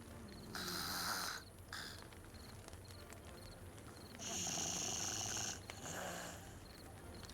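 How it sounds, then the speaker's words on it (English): Sleeping beavers snore in the colony-building game Timberborn, a soft, steady rhythm of breathy snores with gentle wheezy whistles, repeating at a slow, even pace over a low background. "I wonder if beavers actually snore."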